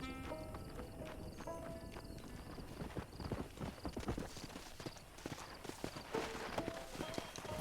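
Hooves of a horse in Red Dead Redemption clop at a steady walking pace, close and moderately loud over quiet game music, with a snort or whinny among the steps.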